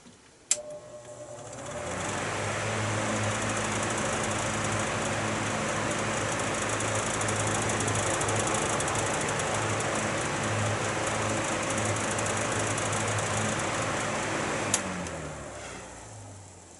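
GE All Purpose machines start up together with a click, then settle into a steady mechanical hum and whir for about fifteen seconds before a second click and a short fade as they shut off.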